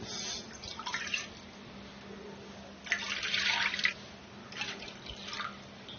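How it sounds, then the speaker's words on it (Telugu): Water splashes and trickles into a pan set on a stove, coming in a few uneven bursts with quiet pauses between them, fairly close and with no speech. "మళ్ళీ అదే మూకుడి స్టవ్ మీద పెట్టుకొని 3 గ్లాసులు నీళ్లు పోసుకుంటున్నాను"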